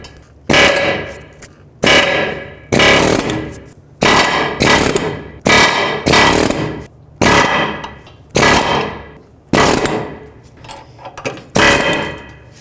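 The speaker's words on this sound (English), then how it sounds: "Now try and remove these with an air chisel." An air chisel hammers out the front lower ball joint rivets on a 2005–2009 Chevy Equinox in about ten loud, rapid bursts. Each burst lasts roughly a second, with short pauses between them.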